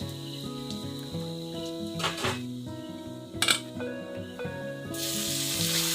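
Onions fry with ginger-garlic paste and turmeric in a pan, giving a steady, close sizzle with occasional utensil clinks and a brighter hiss near the end, under faint tonal background sound.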